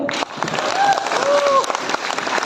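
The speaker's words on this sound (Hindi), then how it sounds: "तालियां हो जाए" Brief applause from the audience at a company meeting, a burst of clapping with crowd murmur and tonal voices mixed in, lasting a couple of seconds.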